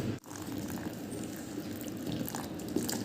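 Water poured little by little into a spiced taro-leaf batter in a home kitchen, a steady soft splashing and trickling that continues without a break.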